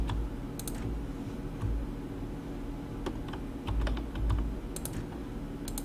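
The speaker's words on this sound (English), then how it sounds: "It's the keyboard that makes clicky sounds." Clicky mechanical keyboard being typed on in short, uneven bursts of sharp key clicks over a steady low background hum, close and moderately loud, with no voices.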